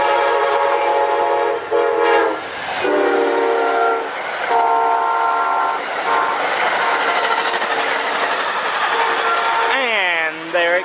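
Amtrak train 89 running southbound, loud and close with a rumbling roar and a long blaring horn in several blasts, the horn bending in pitch as it passes near the end.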